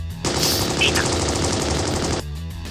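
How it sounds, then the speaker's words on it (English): Gandr curse shots from the visual novel game Fate/Stay Night Unlimited Blade Works fire as a loud, dense machine-gun-like burst lasting about two seconds, then cut off abruptly. "The gander shot scrapes my leg."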